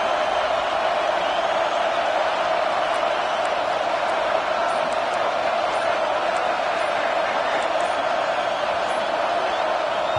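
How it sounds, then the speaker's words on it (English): Steady roaring stadium crowd at an American football game in Houston, a dense continuous wash of noise filling the whole stretch without a break, loud and sustained as fans try to rattle the opposing offense. "Listen to this crowd just shaking the girders of this place"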